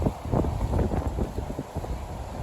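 Wind gusts blowing across a microphone outdoors in a garden beside flower beds, a steady low rumbling buffet with fluctuating intensity and no voices.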